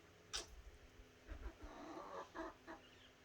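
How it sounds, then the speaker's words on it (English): Chickens pecking and eating ants outdoors give a few soft, scattered clucks and rustles, fairly quiet and intermittent, with a faint steady background hum. "I'm happy that these chickens are a little bit more chill."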